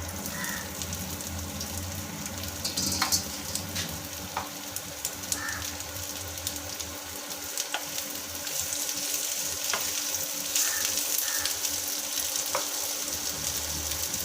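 Hot oil crackles and sizzles steadily as cauliflower fries, with scattered sharp pops and spits over a continuous hiss, close and moderately loud, without talking.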